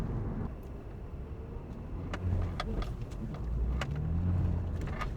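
A 2005 BMW Z4 Roadster drives along with a steady, moderately loud engine drone and road rumble inside the cabin, swelling slightly as it pulls, with a few sharp clicks and knocks over the top.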